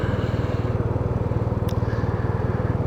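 Yamaha TMAX 560 maxi-scooter pulling away from a standstill, its engine drone loud and steady with a throbbing low pulse, rising slightly as it accelerates, with a brief high chirp midway.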